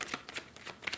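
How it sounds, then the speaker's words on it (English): A deck of tarot cards is shuffled close by, giving quick, papery riffling flutters in a rapid, uneven rhythm. "as I shuffle"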